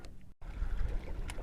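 A trolling motor drives a fishing boat across Galveston Bay, a low steady rumble mixed with wind and water, broken by a brief dropout near the start.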